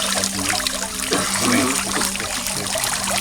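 Water trickles steadily from a healing fountain, a continuous close, fairly loud splashing flow with no voices over it.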